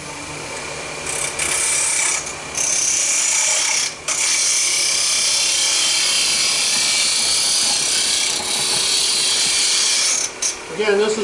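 Wood-turning tool cutting a Japanese-style cup on a lathe: a loud, continuous rasping hiss of the blade shaving wood, with a few brief dips and catches as the cut changes, close and steady throughout.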